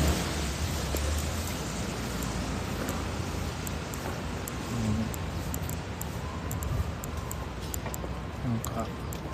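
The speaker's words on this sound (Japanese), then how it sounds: "あ、雨降ってるから" Rain falls outdoors in a steady, broad hiss that lasts throughout, with scattered tiny drips and a voice talking over it.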